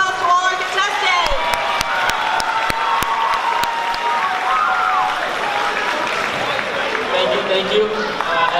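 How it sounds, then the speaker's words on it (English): Steady applause from a community meeting audience for contestants, dense clapping that holds at a constant level throughout, with a few sharper claps standing out and voices and whoops mixed into the crowd noise. "Let's give a round of applause to all our contestants."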